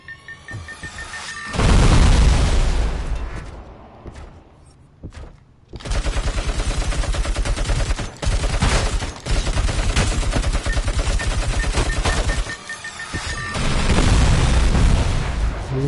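ED-209 enforcement robot firing in the RoboCop: Rogue City video game, loud sustained bursts of heavy automatic gunfire with booming impacts, a brief lull near the middle, then repeated rapid volleys.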